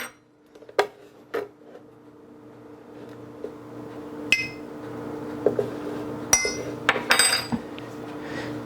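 A whisk or spoon mixing gelatin and liquid egg whites into a keto bun batter in a bowl, giving sparse, sharp clinks and taps against the dish over a low steady hum, with no voices.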